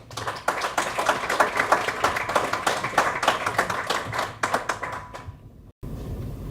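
After a talk on Catalonia, an audience breaks into applause. The clapping is close and distinct, made of many individual hand claps, and it tapers off before a sudden cut into room noise.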